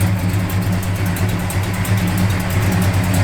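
A 1969 Dodge Charger engine idles steadily with a small exhaust leak at the collector gasket, a constant low rumble with faint ticking puffs, close and continuous with no talk.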